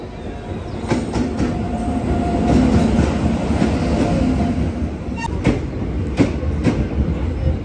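A train arriving at Taregna railway station in India: loud rolling rumble with rhythmic wheel clicks and clanks passing close by, and no talk.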